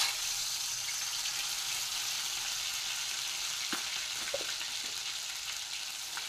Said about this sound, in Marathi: तेल तापले, आपण आता ही लाल चटणी तेलामध्ये तळून घेऊया।